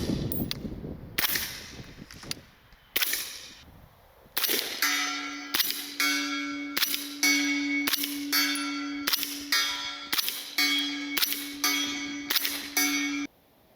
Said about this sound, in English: 300 blackout subsonic is, well, just listen.